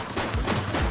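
A quick cluster of gunshots in the police game The Precinct, loud close bursts filling under a second with no talk.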